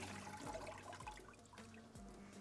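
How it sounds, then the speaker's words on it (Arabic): Water drains from soaked, cut potatoes poured into a strainer in a home kitchen, a steady close rush and trickle of liquid running through throughout. "دلوقتي انا هصفيها من الميه وهاجي احطها على طول."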